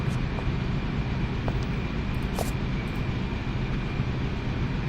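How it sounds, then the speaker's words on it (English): A distant airplane drones in the video game Syberia, a faint, steady broadband hum with a few soft clicks and no talk. "Sounds like an airplane in the distance."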